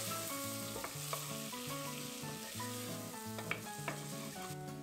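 Vegetables and flour sauteing in a pan for a Turkish chicken meal give a steady, soft sizzle with occasional light stirring scrapes, heard close and alone under background music.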